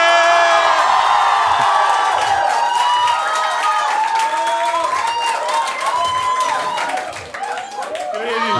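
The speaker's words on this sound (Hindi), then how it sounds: "जोरदार तालियां बजानी सुनेंगे।" A comedy crowdwork show audience bursts into loud, sustained applause with whoops and cheering, dense clapping that thins slightly toward the end.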